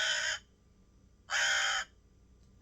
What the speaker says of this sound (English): That's an angry crow sound.